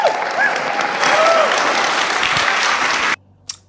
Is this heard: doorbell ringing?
no